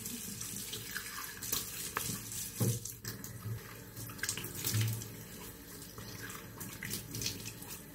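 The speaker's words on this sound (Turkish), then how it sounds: "Yüzümü sıcak suyla yıkayıp tıraşımıza başlayalım." Warm water running from a bathroom tap while a face is washed before a wet shave, a continuous close stream with irregular splashes and hand rinsing throughout, no talking.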